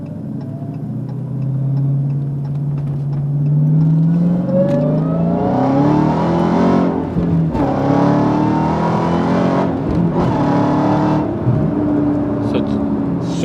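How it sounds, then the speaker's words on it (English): A Dodge Challenger Hellcat with a manual gearbox and Barton shifter pulls hard through the gears, the engine note rising loud and close, with brief dips between shifts. "Let's do a quick pull so you'll see how the Barton works."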